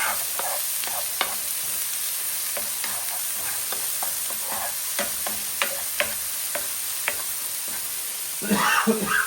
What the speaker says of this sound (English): Let's just saute this a bit.